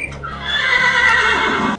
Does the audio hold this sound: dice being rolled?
no